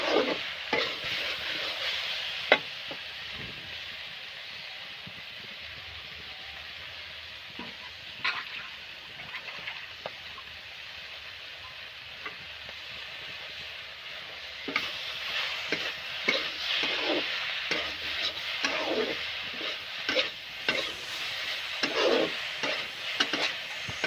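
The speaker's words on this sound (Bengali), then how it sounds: "আর এদিকে সব মশলা দিয়া সাতলাইরাম" Vegetables sautéing with spices and salt in a pan on a small outdoor stove: continuous sizzling hiss with frequent scraping stir strokes, louder and busier in the second half.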